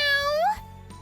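A cat meows once in the video game Trails of Cold Steel III, a clear rising call that ends abruptly, followed by a faint short sound.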